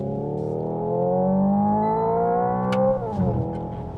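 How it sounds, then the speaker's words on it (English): Hyundai Ioniq 5 N electric car producing a synthetic engine note that climbs steadily, holds at the rev limiter, then drops sharply with a shift, heard up close from inside the cabin. "You hit the rev limiter, right?"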